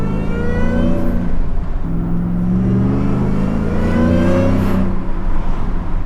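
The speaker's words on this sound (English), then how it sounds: "let you listen to the supercharger" Supercharged 750-horsepower Shelby F150 pickup accelerating hard, its engine roaring steadily with a rising supercharger whine and climbing pitch sweeps as it shifts through gears, loud and close throughout.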